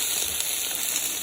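Spinach frying in a pan after long stirring, well broken down: a close, steady hissing sizzle without pauses.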